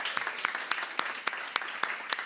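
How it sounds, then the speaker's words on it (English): Applause at a live comedy show in a pub-style venue, with a handful of distinct, spaced claps standing out over a thin, fairly quiet crowd background. "And can we just have a round of applause for them too,"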